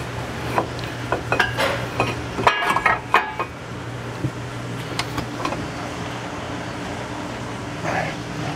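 Metal clinks, taps and scrapes come in an irregular run as a brake caliper is refitted on a 2005 Acura MDX, then thin out over low steady background hum.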